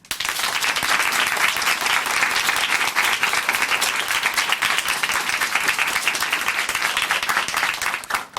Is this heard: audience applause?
yes